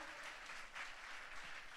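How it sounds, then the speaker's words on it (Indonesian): A church congregation claps together during a sermon, a steady, faint spread of applause heard from a distance at an even level with no voices over it. "Boleh saya dengar tepuk tangannya yang paling meriah?"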